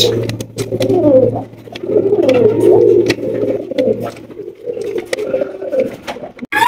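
A pair of Karmona pigeons coo in a low, continuous rolling warble, close and fairly loud, over a steady electrical hum with scattered clicks, and no one speaking.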